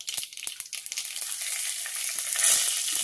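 Garlic frying in hot oil for a traditional ambadi leaf bhaji, a loud, bright, continuous crackling sizzle with a few sharp spits early on, heard close up and alone.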